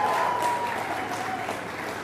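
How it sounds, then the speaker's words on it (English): A launch event audience gives sustained applause, a dense wash of many hands clapping at a steady loud level that tapers slightly toward the end, with faint voices mixed in. "Give them a big round of applause."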